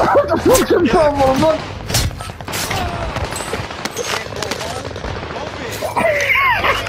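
Rapid automatic gunfire in a Call of Duty–style shooter video game, loud bursts and fusillades throughout, with excited players talking over the shots.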